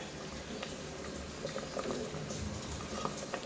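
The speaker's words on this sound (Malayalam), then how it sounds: "രണ്ടും കൂടെ മിക്സ് ചെയ്ത ശേഷം നന്നായി ഒന്ന് തിളപ്പിക്കാം" A pot of sambar at a steady rolling boil, with continuous close bubbling and popping that stays even throughout, with no voices.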